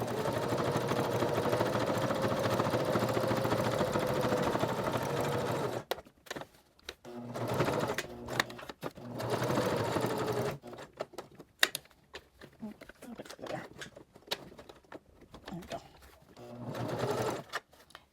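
Sewing machine stitching a magnetic wrist cuff, running in a long steady burst, then stopping and restarting in several short, closely miked runs.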